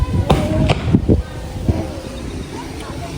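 Boga bird-scarer blasts over a rice field, several sharp booming reports early on followed by a fainter distant one, all set against constant outdoor wind rumble.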